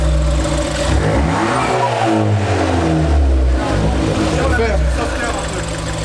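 A Ford Fiesta ST engine with a dump valve revs and drops steadily under loud, close talking, with the pitch rising and falling through the revs.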